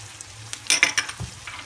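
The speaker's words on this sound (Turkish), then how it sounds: "tuzunu da ekledikten sonra güzelce kavuracağız" Green lentils with mint, black pepper, red pepper flakes and salt are sautéed and stirred in a pan, giving a few close sizzling scrapes and clatters in short bursts.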